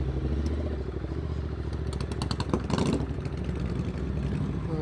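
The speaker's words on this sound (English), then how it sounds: "Back on 2 wheels, we are back out on the Tasmanian roads" A motorcycle riding along roads in Tasmania, with a steady engine drone and rushing wind throughout, a brief louder rise near the middle, heard close from the rider's position.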